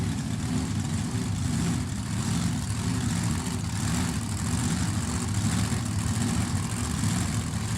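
Drag racing dragster engine at the start line of Cordova Dragway, a loud, steady, rumbling roar that stays constant throughout.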